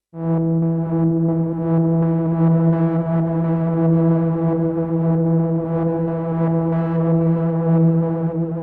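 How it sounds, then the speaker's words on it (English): A sustained, droning synthesizer tone holds steady, with each note cycling to a different voice and panning position and shifting subtly in texture, loud and continuous with no voices. "every time you press the note, it flicks through these voices, and it has a different panning position for each one"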